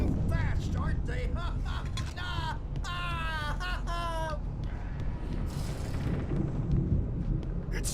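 Thunderstorm in the video game Alan Wake, a heavy, continuous low rumble rolling throughout, with strained, voice-like harmonic calls rising over it during the first half before the roar carries on alone.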